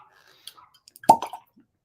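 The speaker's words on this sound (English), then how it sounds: "good cork pop" A cork pulled from a bottle of Old Granddad 114 bourbon, a single sharp close pop followed by a short squeak, with faint handling clicks before it in an otherwise quiet room.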